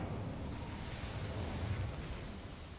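A fiery spell burst in Hogwarts Legacy, a short, dense whooshing roar of flame holding steady for a few seconds without speech.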